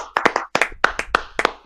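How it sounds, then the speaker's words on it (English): A few podcast hosts clap in welcome, a short burst of distinct close hand claps in an uneven rhythm, sounding like a small group in a room rather than a crowd. "Can we all give Rob a round of applause as welcome"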